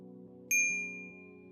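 A single bright notification bell ding strikes sharply and rings out, fading over about a second above a quiet, steady low tone.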